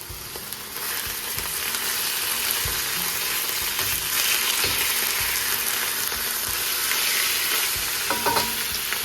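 Long grain white rice frying over high heat for beef hibachi fried rice, a steady dense sizzle with scraping and stirring clicks throughout, close and continuous with no voices.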